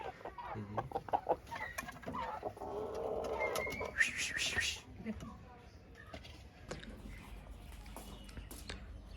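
Chickens cluck and murmur close by as they are fed on a cold winter day, with scattered clucks and short calls and a few sharper bursts, while a person talks over them now and then.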